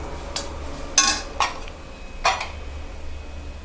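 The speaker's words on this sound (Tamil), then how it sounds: "இதை நல்லா ஒரு வாட்டி கலந்து விட்டுக்கலாம் இந்த" A spoon stirs peas and potato kuruma with masala in a pan over low heat, giving a few sharp scraping clinks of metal against the pan spaced irregularly over quiet background.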